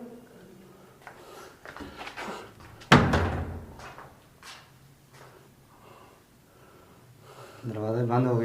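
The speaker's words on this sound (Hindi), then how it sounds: "दरवाजा बंद हो गया। फिर बंद हो गया।" During a Pakistani ghost hunt, a door shuts once with a sharp, heavy thud while people talk in low voices before and after it.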